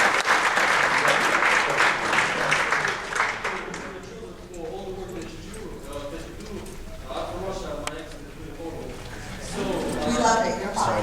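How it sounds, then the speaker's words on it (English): Audience applause at a live evening talk, loud clapping at first that thins out, with voices speaking over it and the clapping swelling again near the end. "that deserves a round of applause"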